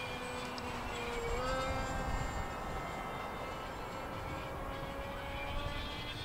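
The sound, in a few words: light aircraft engine in flight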